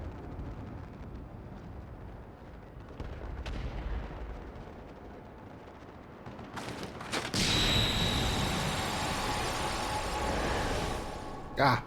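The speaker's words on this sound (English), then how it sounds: "Ah, flashbang." A flashbang in the game Final Fantasy XIV goes off partway through with a sudden broad blast, followed by a sustained high ringing whine over a dense wash of noise, after a stretch of rumbling game soundscape.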